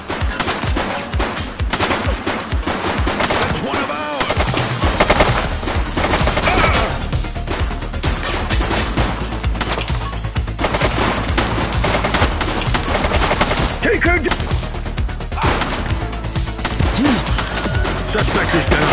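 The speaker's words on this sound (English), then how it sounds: "Taking fire! She's shooting!" Dense, loud gunfire in the police video game The Precinct, sustained bursts of rapid automatic shots that hammer on without pause, with voices calling out under the barrage.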